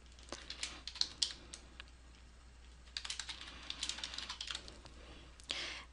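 Quiet keyboard typing, irregular bursts of light key clicks close by, pausing briefly midway before resuming in quick runs.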